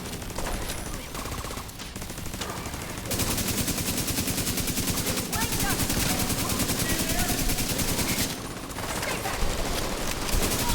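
Rapid automatic gunfire from a firefight in the video game Division 2 runs as dense, sustained bursts that swell louder midway and carry on almost without pause.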